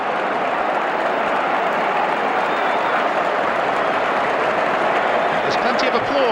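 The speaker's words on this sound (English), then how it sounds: "There's plenty of applause ringing round Anfield." A large football crowd at Anfield applauding during a Liverpool versus Spurs match, a broad, steady roar of clapping that fills the stadium and carries without a break.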